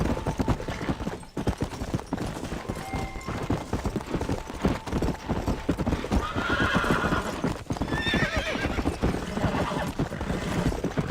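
A horse galloping in the video game Red Dead Redemption, with rapid continuous hoofbeats, a whinny partway through and distant gunfire in the background, loud and up close.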